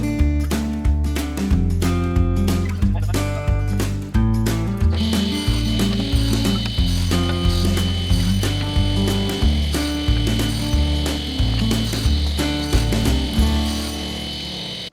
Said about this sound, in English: here I am now getting on to cutting all the wedges